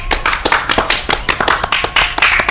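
Audience applause for racing driver Gerry Salim, a short burst of brisk, close hand clapping with uneven rapid claps.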